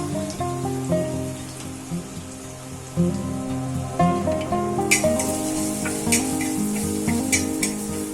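Panch phoron whole spices, chopped ginger, coriander powder and a green chilli sizzle in a spoonful of hot oil for a bottle gourd curry, a steady crackling hiss with sharp pops over background music.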